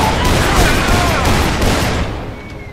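Sawn-off shotgun blasts in the Dead Island video game, a loud close burst of shots that rings out and fades over the last second.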